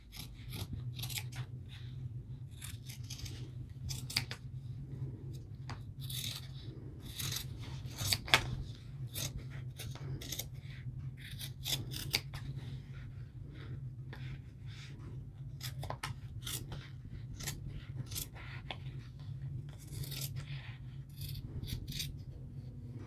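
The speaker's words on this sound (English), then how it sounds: "the cutting is not going to be perfect, but you'll be able to compensate when you're sewing it all together" Scissors cut through fleece fabric for a handmade hat in a steady run of close, crisp snips and slides, heard alone over a low background hum.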